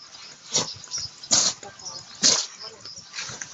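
Dog sneezing outdoors, three sharp, loud sneezes spaced about a second apart, with softer snuffles and a voice in between.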